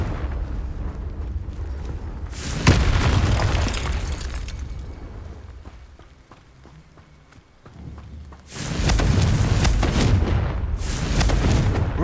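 Blasting-spell explosions from Confringo in the Hogwarts Legacy video game: loud booming bursts and rumbling blasts come in two heavy waves separated by a quieter stretch, with sustained crackling roar afterward.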